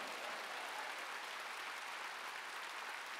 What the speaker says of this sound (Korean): 깨달았으면 박수 쳐라 이게